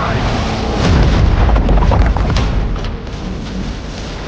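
Heavy booming bomb blasts in a video game trailer, a loud rumbling burst that swells and then decays into a lingering roar, mixed with battle noise and brief shouting.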